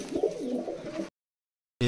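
A racing pigeon and hen from a fancier's loft coo in a low, rolling burst for about a second, fairly close, then the sound cuts to silence before a brief return.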